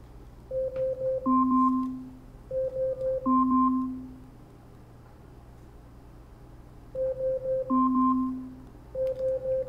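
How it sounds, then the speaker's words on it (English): An Alexa timer alarm plays a repeating pattern of three-tone beeps in bursts, pausing briefly and then starting again, steady and moderately loud. "So the timer went off"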